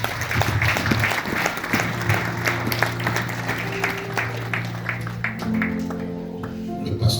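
A church congregation at a pastor's ordination service applauds in a sustained burst of dense clapping, with cheering voices and some music mixed in underneath.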